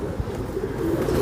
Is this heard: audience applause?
no